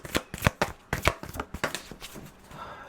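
Tarot cards are shuffled up close in a quick run of crisp, irregular riffling snaps that trail off toward the end.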